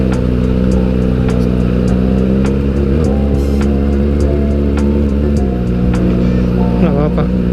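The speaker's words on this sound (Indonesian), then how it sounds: "kalau di engine brake ini enak banget suaranya" A Kawasaki ZX-25R motorcycle engine braking on a touring ride in Bali, with a loud, steady engine drone and a couple of dips in pitch as revs drop.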